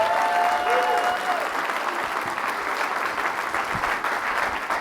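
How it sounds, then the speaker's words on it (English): A conference audience at a summit opening gives sustained applause for a colleague, steady and full, with some cheering voices mixed in. "a big round of applause, please, for my colleague, Dr."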